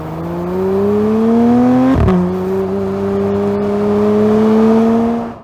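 A new Porsche GT3 engine revs hard, its tone climbing steadily, cutting briefly at a gear change, then rising again as a loud, clear, continuous note with no voices.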